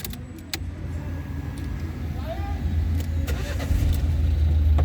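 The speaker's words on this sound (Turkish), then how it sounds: "Aracımızı çalıştırıyorum." A 2019 Renault Symbol Joy is started, with clicks and a short crank before the engine catches and settles into a steady low idle close by. A voice can be heard faintly.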